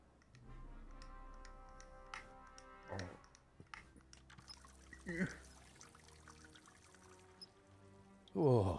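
Water pours from a tap in a video game, a trickling splash heard over clicks and ticking ambience, with a louder gush near the end.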